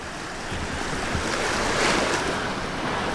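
Waves on Sand Lake near Manistee, Michigan wash steadily onto the shore at a campground, a broad continuous rush swelling slightly midway, with wind noise and no talk.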